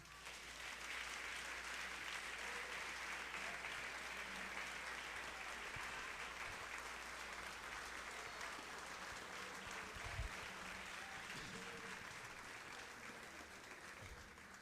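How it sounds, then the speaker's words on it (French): Congregation applauding the Lord during a church sermon, a steady wall of many hands clapping that runs unbroken for the whole stretch at moderate loudness. "Maintenant, on doit applaudir le Seigneur."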